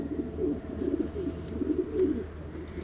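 A male racing pigeon coos in a steady, low, throaty murmur that rolls on without pause, close by and alone.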